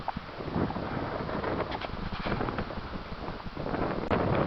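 Wind gusts buffet the microphone on a mountain summit during a spring hike, a steady broadband roar that swells and eases across the few seconds with no talking.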